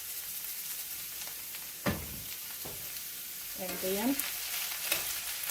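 Polk salad greens sizzle and fry in grease in a home kitchen, a steady crackle with a few louder stirring clanks, while someone briefly speaks over it.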